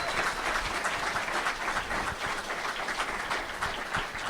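An audience applauds a young lady at the MatSu Untold event, with steady, dense clapping throughout at moderate loudness and no talk.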